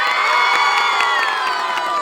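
A studio audience at a Telugu TV comedy show claps and cheers for a saree-contest winner: a loud, dense, steady wash of applause with scattered whoops, filling the whole moment without pause.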